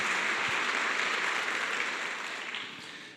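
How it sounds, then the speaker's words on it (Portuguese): A church congregation applauding parish catechists, a sustained wash of many hands clapping at moderate distance, gradually tapering off toward the end. "Uma salva de palmas para os catequistas da nossa paróquia."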